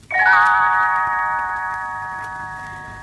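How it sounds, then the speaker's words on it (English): A read-along storybook's page-turn signal: little bells give one bright tinkling chime, then ring on and fade slowly over about three seconds, heard alone and up close. "Tinkerbell rings her little bells like this"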